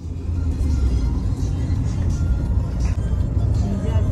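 Steady low rumble of a car driving along a road past a beach and shipyard, heard from inside, continuous and fairly loud with faint road noise.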